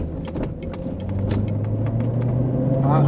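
Low engine rumble inside a moving Chevrolet Corvette Z06, with scattered light creaks and clicks from the cabin as it rolls over bumpy railroad track crossings.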